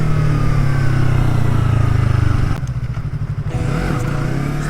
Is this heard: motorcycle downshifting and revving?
yes